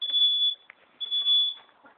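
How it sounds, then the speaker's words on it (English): A homemade alarm wired onto a dirt bike goes off as the bike is lifted off its stand, sounding loud high-pitched electronic beeps in two long bursts with a short gap and small clicks between them. "So I've got my ghetto rigged safety alarm"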